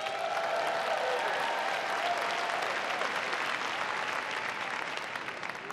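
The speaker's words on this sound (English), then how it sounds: "can you guys give my team a round of applause?" A crowd claps for a team in dense, steady applause that is moderately loud and close, with no talk over it, and eases slightly toward the end.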